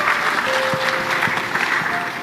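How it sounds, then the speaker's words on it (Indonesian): An audience at an Indonesian family gathering applauds the fathers present, a continuous mid-distance patter of many hands clapping, with a faint steady tone running under part of it. "Tepuk tangan buat bapak-bapak utamanya."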